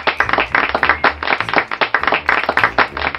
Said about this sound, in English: Let us all clap for the children who answered.